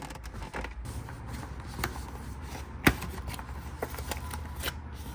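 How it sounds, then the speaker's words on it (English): Rustling and creaking as a product box for a Pelsee 3500A jump starter with air compressor is opened up close, with cardboard scrapes, papery shuffling and one sharp snap midway. "let's go ahead and open up this box and see what's inside"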